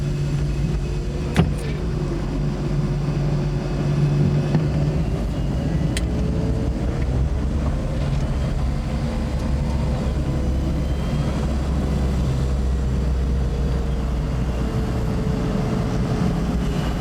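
A Chrysler Turbine Car's gas turbine engine idles with a steady, smooth whine and low rumble, continuous and unchanging over a long stretch, with a couple of faint clicks near the start.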